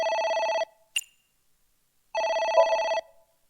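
In the video game AI: The Somnium Files, a phone rings with a loud electronic trill. Two ring bursts are separated by a short click and a pause of silence, with no voices.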